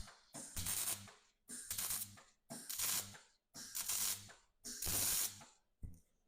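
A ratchet turns a 3/4 inch socket on an old, used Jaguar in a garage, clicking in five steady bursts of rapid pawl chatter with brief pauses between strokes, close up and with no voices.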